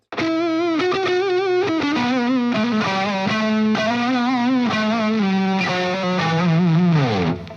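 A heavily overdriven electric guitar with Yngwie Malmsteen pickups, drive halfway up and turbo engaged, plays a gritty, sustained melodic line with bends and a thick, buzzy tone, loud and continuous.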